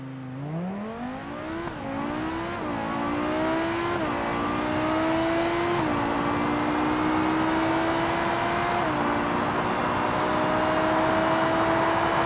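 A McLaren Sabre supercar engine in BeamNG.drive revs loudly and steadily, pitch rising through several gear shifts with brief dips, building to a sustained high whine at full throttle with no talk.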